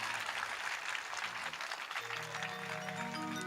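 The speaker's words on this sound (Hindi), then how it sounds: "जोरदार ताली इनके लिए।" Audience applause at a live Devi Bhagavat religious discourse in Jaunpur, a steady moderate clapping from a crowd with a droning instrument tone emerging underneath toward the end.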